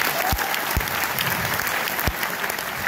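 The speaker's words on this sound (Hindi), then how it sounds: "मैं चाहूंगा उनकी फैमिली के लिए भी जोरदार तालियां हो जाए" An audience at a business event applauds a speaker's family, a dense, loud burst of clapping with a few heavy thumps standing out.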